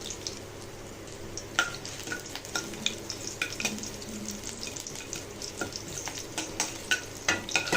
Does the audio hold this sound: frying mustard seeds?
yes